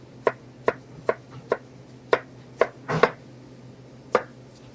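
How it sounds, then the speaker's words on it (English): Sharp knife chops finely dicing onions on a cutting board, about ten quick taps in an uneven rhythm, close and clear with no talking. "Dice as fine as you can."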